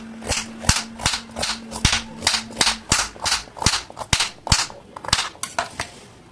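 A knife chops a carrot into small pieces on a board, a run of about fifteen sharp, crisp knocks in a fairly steady rhythm, loud and close, with no voices.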